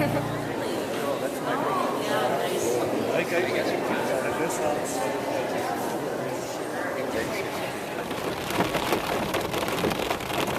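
Heavy rain pours steadily, a dense hiss of drops drumming on surfaces, with faint voices murmuring beneath the downpour.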